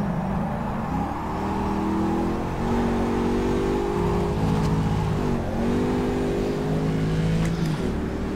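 A Panoz Roadster race car in the rFactor 2 sim at Putnam Park, its engine loud and continuous, revving up and dropping back repeatedly as it shifts through the gears.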